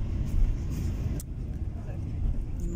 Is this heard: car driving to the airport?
yes